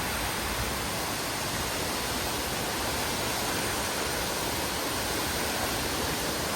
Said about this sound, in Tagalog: malakas lang ang tubig